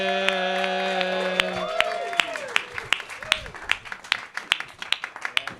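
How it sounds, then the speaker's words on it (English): Audience claps for a comic at a roast battle league show in New York. Scattered, rhythmic claps build under tonal music and talk, becoming sharper and more regular toward the end. "Start clapping right now."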